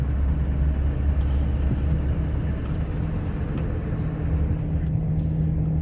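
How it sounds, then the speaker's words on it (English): Fully loaded Scania R560 gravel truck with wagon, hauling sand and gravel through a city center: a steady, loud, low engine drone and road rumble that holds evenly throughout, with no speech. "this is how it is to go through the city center with a fully loaded truck and wagon."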